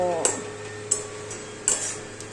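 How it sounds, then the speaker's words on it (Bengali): Masala sautés with splashes of water in a pan, a steady soft sizzle broken by three sharp metallic scrapes and taps of the spoon against the pan. "যতক্ষণ না মশলাটা কষবে ততক্ষণ এটাকে হালকা হালকা জল দিয়ে কষাতে হবে।"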